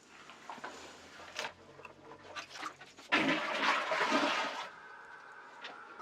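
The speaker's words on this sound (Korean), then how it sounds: "제가 저 이물질을 제거하고 다시 한번 물을 내려볼게요." A household toilet flushes after debris is cleared from it. A loud rushing surge of water drains in one go, then tapers into a softer refill trickle nearby.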